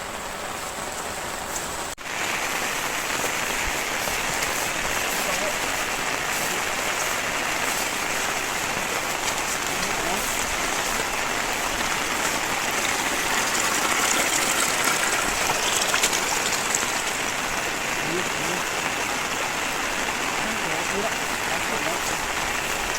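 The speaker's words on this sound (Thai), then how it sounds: "ฝนตกหนัก" Heavy rain pours down in a dense, steady hiss across the whole stretch, loud and near, with faint voices underneath.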